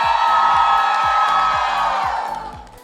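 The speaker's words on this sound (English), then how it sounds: "One round of the biggest scream out of your heart that you have no fears of being in this room." A roomful of people at a pageant welcome and introduction event screaming and cheering loudly together in a sustained roar that fades toward the end, with music underneath.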